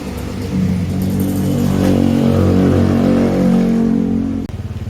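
A motorcycle ridden on the road, its engine droning and revving steadily up close for several seconds before the pitch drops off abruptly near the end.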